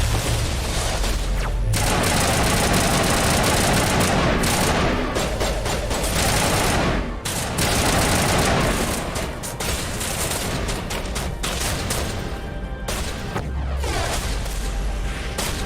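Enemies unleash a dense, continuous barrage in Mass Effect Legendary Edition, with heavy gunfire, booms and explosive thuds blending into a loud, almost unbroken roar of combat that briefly thins in places.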